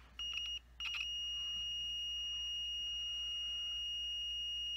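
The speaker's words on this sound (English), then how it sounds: "That's continuity there." A multimeter gives a continuity test beep on guitar electronics tabs: a short steady tone, a brief gap, then a long sustained beep, loud and clear over faint room hiss.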